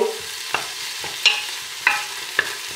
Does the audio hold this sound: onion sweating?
yes